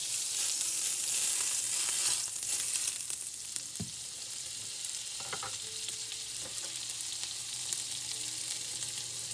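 Butter and olive oil sizzle steadily in a skillet on medium heat, a continuous close hiss with a few faint clinks of a utensil against the pan.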